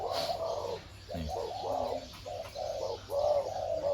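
Pigeons coo in repeated soft, rounded phrases mixed with occasional light chirps, moderately close and steady throughout, with no talking over them.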